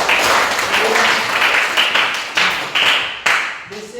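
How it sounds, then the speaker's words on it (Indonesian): A class of schoolchildren in a classroom claps their hands together, a dense patter of many hands that swells and fades in repeated bursts, fairly close and loud with no talking. "tepuk tangan semuanya"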